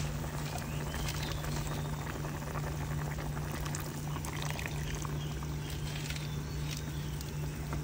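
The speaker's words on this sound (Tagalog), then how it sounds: "Pagkatapos nyan ay maglalagay na rin tayo ng ating toyo." Soy sauce poured into simmering beef pares in a pot with anise and spices, a steady liquid pour over continuous bubbling, close and moderately quiet with a faint constant hum.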